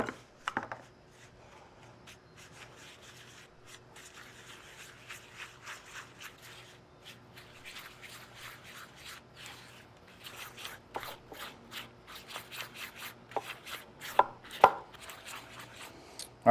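Coleslaw dressing of mayonnaise, Miracle Whip and yellow mustard mixed in a bowl, with soft, quick, rhythmic scraping strokes that grow busier and end in a few louder taps, close and without talk.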